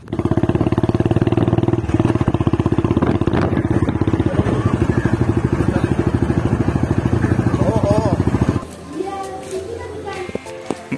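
Royal Enfield Bullet motorcycle riding along a village road past paddy fields, its loud, steady thumping engine rumble continuing for most of the stretch before cutting off abruptly, with voices talking faintly over the ride.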